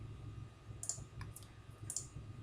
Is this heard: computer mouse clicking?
yes